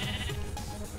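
Several overlapping sheep bleats from Minecraft, a dense chorus of wavering baas filling the whole moment at steady, fairly loud level.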